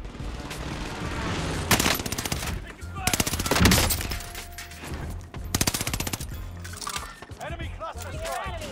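AS44 rifle gunfire in Warzone, the video game, rattles in rapid automatic bursts, loud and close, with game effects and a voice speaking over the shooting.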